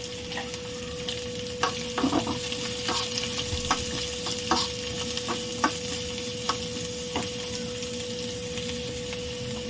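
Chopped onion sizzles steadily in a hot pan with no masala added, while a spoon stirs it in repeated scraping clicks throughout, close and moderately loud with no talking.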